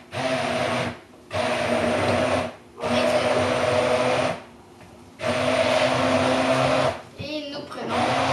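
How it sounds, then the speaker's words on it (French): Electric hand mixer switched on and off in several bursts of steady whirring motor noise, each a second or two long with short pauses, close by; brief clattering near the end. "On va brancher la mixette."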